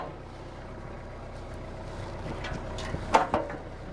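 Tractor engine idling steadily at a distance, set to drive a Woodland Mills WC68 woodchipper through its PTO, a low continuous rumble with a few brief clunks near the end.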